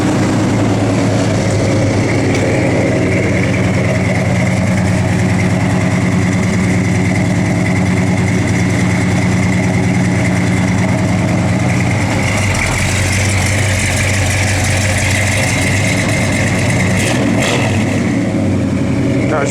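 A 1967 Plymouth GTX idles loud and close, a rich, steady rumble with a lumpy low throb that holds throughout, with faint talk in the background.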